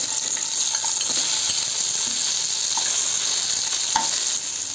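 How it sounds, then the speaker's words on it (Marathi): Tomatoes sizzle steadily in hot oil in a frying pan for a chutney, a continuous crackling hiss with occasional sharp pops and light stirring sounds, with no talking. "तेल आपलं गरम झालेलं आहे, त्याच्यामध्ये आपण आता टॅमॅटो घालून घेऊ।"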